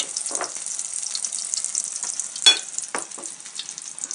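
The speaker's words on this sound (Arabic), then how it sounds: "نحطوه هكا يتقلى" Chicken coated in egg and flour batter fries in hot oil with a steady hiss, and a few sharp spatters and pops stand out from the constant sizzle.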